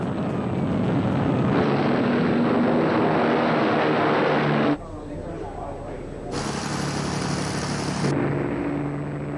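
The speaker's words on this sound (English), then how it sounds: "British planes took off for the German industrial city of Essen" Wartime British bomber aircraft engines drone in a dense, continuous roar that swells and briefly cuts out, with a narrator speaking over the noise.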